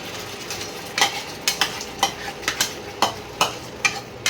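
Olives tossed into hot oil tempered with whole spices, frying with a steady low sizzle while a spoon scrapes and stirs the pan in repeated sharp clinks and scrapes, close up with no talk.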